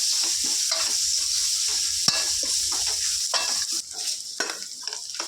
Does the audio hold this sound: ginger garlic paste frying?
yes